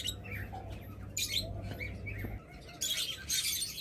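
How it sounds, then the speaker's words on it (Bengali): Pet doves kept for sale chirp and tweet in short, bright calls. Some of the calls overlap, and the birds sound fairly close against a soft, low background hum. "দেখতেছেন চমৎকার হেলদি স্বাস্থ্যবান অ্যাক্টিভ পাখি"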